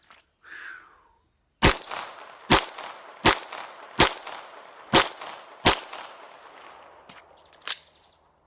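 Handgun shots in a drill string: six sharp, evenly spaced reports ring out close by, each followed by a short echo, with a couple of fainter clicks and clinks before and after.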